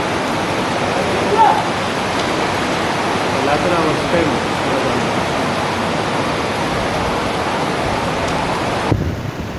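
Loud, constant roar of rushing floodwater from a landslide at Mundakkai filling the scene, with a brief spoken voice near the start over the torrent.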